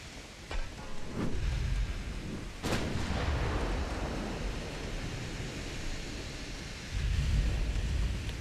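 Warship guns firing on a battleship in the naval strategy game Ultimate Admiral Dreadnoughts, a few sharp booms followed by long rumbling roars, loud and continuous.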